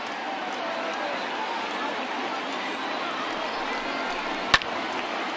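A steady, distant crowd of over 39,000 roars on its feet in MLB The Show 20 during a Mariners vs. Yankees game, with one sharp crack standing out near the end.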